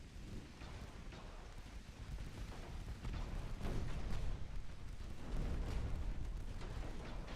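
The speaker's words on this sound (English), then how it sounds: "Torpedo hit the San Pietro Apostolo" In the naval video game Ultimate Admiral: Dreadnoughts, a torpedo strikes a 16,000-ton warship: a deep, continuous rumbling roar with crackling noise that swells and stays heavy, a thunder-like blast with no voices.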